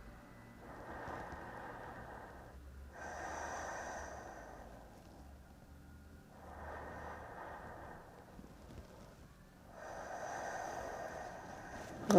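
Slow, steady breathing during a pilates exercise, with soft inhales and longer exhales alternating in broad waves, close and quiet over a faint background hum, no talking.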